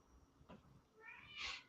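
Cat meowing close by, a faint short call then a louder drawn-out meow, over a quiet room background.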